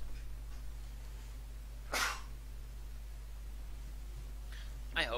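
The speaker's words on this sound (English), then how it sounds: "I have to sneeze again." A single sharp human sneeze bursts out at about two seconds over a quiet steady hum, with a second, shorter burst of breath or sneeze at the very end; no other talking.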